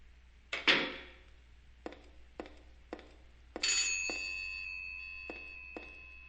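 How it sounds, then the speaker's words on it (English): A telephone rings inside broken phone booths in the horror video game Silent Hill 3: a few dull knocks, then a bright, sustained metallic ring that lingers and slowly fades, with faint taps under it. "Well then, what just made that ringing sound, my dear?"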